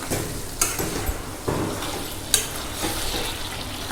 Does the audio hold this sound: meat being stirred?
yes